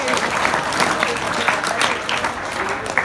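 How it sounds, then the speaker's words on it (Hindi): An audience at a school comedy show applauds, with dense clapping sustained throughout at steady loudness and no speech standing out. "तो ताली बजती है ना ऐसे लोगों की।"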